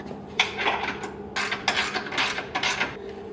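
A ratchet tightens a bracket bolt on a 2017+ Jeep Wrangler or Gladiator light bar mount, giving several quick, close, uneven clicking bursts over a low background hum.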